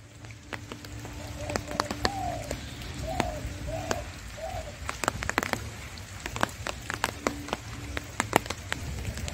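Rain falls on a street and waterlogged field, a steady patter with scattered sharp drops close by, while a few faint bird chirps sound in the background.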